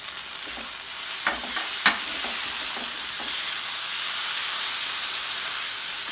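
Spices frying in a pan with garlic-ginger paste for prawn masala, a steady broad sizzle throughout with a few scraping stir strokes near the start, close and continuous with no talk.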